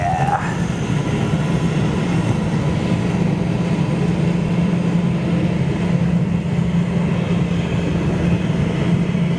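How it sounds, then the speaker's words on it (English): A Boeing 777 freighter aircraft at Frankfurt airport produces a loud, continuous roar and low rumble, steady throughout, with a short rising whine at the very start. "Such a versatile freighter, this 777, isn't it?"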